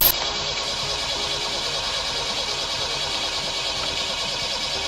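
Car engine cranking while trying to run on kerosene, a steady, continuous mechanical whir and drone at close range that holds evenly without catching or revving.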